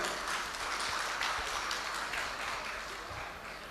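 A crowd applauds steadily at a Tuluva Vellalar community matrimonial gathering in North Arcot, a dense wash of clapping that holds at an even level throughout.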